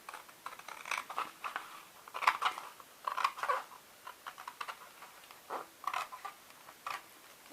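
Scissors snipping through fabric while cutting out a journal cover, a series of close, crisp cutting clicks and rasps in irregular bursts, moderately quiet with no talking.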